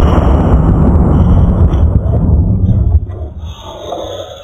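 A plastic bottle blown apart by a high-voltage spark gives a loud, rumbling roar that fades over a few seconds into quieter noise.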